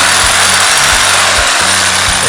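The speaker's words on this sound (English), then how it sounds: "Sawzall." A Sawzall reciprocating saw cuts through old deck wood during demolition, giving a steady, loud, continuous buzzing grind with rhythmic low thumps throughout and no voices.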